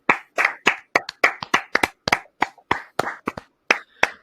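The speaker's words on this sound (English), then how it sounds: "let's go ahead and clap it up for the Blues" Podcast hosts clap in celebration, a loose run of about twenty sharp, close hand claps in an uneven rhythm from a couple of people, with no talking over them.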